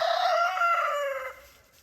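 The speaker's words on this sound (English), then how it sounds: "Chickens are out enjoying the nice day." A single loud chicken call rings out close by, drawn out for a second before trailing off into quiet.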